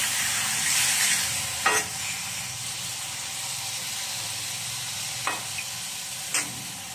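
Wood ear mushrooms sauté in a hot pan, producing a steady, loud sizzle and hiss throughout, broken by a few brief scraping knocks from the stirring utensil, with no talking.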